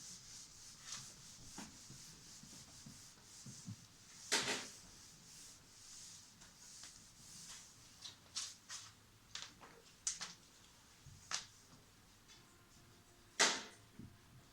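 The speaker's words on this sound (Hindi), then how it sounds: "ये सब कुछ बच्चों अभी हम रब कर दे रहे हैं." Rubbing writing off a classroom board during a maths lesson, with soft scattered scrubbing strokes and a few sharper swipes and knocks, fairly faint with quiet room noise between.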